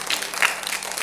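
Brief burst of applause for Huda from a group of children in a studio, a short patter of clapping lasting about a second.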